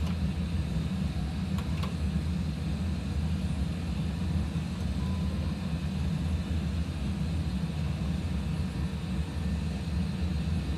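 Airliner engines in flight in a flight simulator, a steady, loud broadband roar and drone that holds constant throughout with a deep low rumble.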